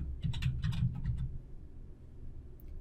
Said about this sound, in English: Simply type in the new category name.